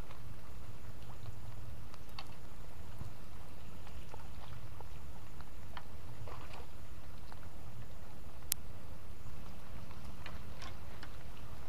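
Heavy rain falls steadily outdoors near a fishing spot, with scattered nearby drops tapping and pattering over a soft, continuous wash; no one speaks.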